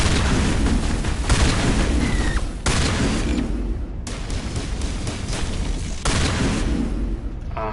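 Loud, heavy booming blasts of game gunfire, shotgun fire in Mass Effect, pound on for several seconds in dense overlapping bursts with a few sharp breaks between volleys.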